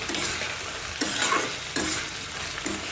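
Salted peanut curry stirred in a pan over low heat, with a soft continuous sizzle and a few separate spoon scrapes, close and alone without talk.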